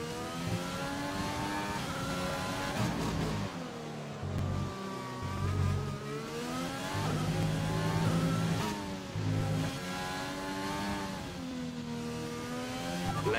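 Formula 1 car engine in the racing game F1 2020, a high, whining tone that repeatedly climbs and drops with gear changes and braking, steady and fairly close throughout, with no speech.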